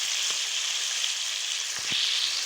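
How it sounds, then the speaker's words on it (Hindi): Chicken liver masala with garlic-ginger paste fries in a pan, a steady close sizzle with a couple of brief stirring knocks and no voices. "अच्छी तरह भूनेंगे।"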